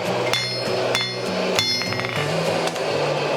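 Hammer blows ring out on hot steel being forged into a medieval spike axe, a series of sharp metallic strikes at an uneven pace, close and loud, each with a bright ringing tail.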